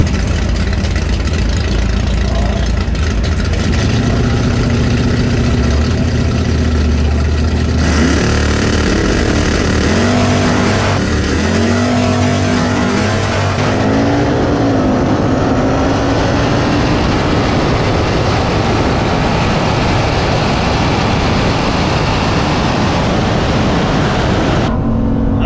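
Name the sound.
Hemi Cuda car engine revving at drag race start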